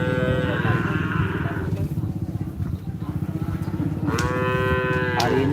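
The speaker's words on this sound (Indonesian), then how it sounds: "Hari ini pagi-pagi banyak sapi yang sudah dilepas" Cattle moo loudly in long drawn calls at a Madurese bull race, the Kerapan Sapi, with one low moo at the start and more near the end, over crowd murmur and a background hum.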